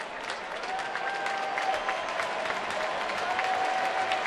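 Crowd at a Giants vs. Nationals playoff baseball game applauding and cheering steadily, a broad wash of claps and voices filling the stadium throughout with no clear pauses.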